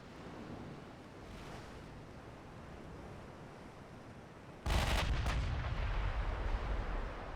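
A naval gun battle in Ultimate Admiral Dreadnoughts: a low rumbling sea-and-wind bed, a faint distant boom early on, then a sudden loud crash of gunfire and shell impacts that leaves a heavier roar running to the end, with no talking.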